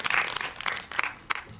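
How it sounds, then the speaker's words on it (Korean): An audience at a film screening talk claps together, a short burst of applause that rises and fades within a second or two. "한 박수 부탁드립니다"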